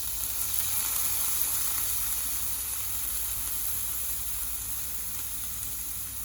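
Radish fry cooking in a pan, making a continuous, even close-up sizzle and hiss of frying that holds steady without pause.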